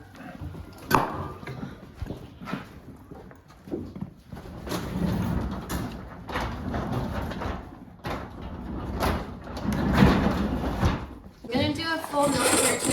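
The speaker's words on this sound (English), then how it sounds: "We're gonna shut that door, right?" A door shut on a farm in freezing weather, heard as knocks and sliding bumps against steady barn and animal noise, with people talking throughout.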